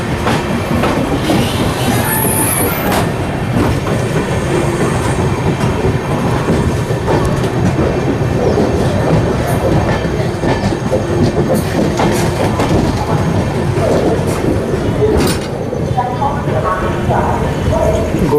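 A Motibagh ALCO diesel locomotive pulls a train into Gondia Junction, a loud steady rumble of wheels and carriages with clicking rail joints and occasional squeals running throughout.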